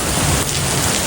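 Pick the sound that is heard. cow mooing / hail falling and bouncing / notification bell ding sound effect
hail falling and bouncing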